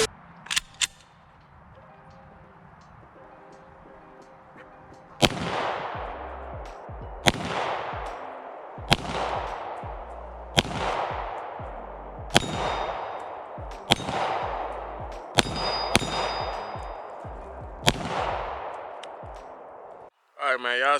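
A SIG M17 pistol fires about eight sharp, loud shots from the shooter's point of view, spaced roughly every two seconds, each crack followed by a short ringing decay, with faint clicks before the first shot.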